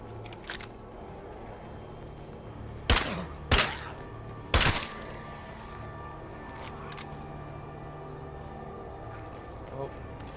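Gunfire in the zombie video game State of Decay 2, three sharp shots over a steady background hum of game ambience, the second two close together.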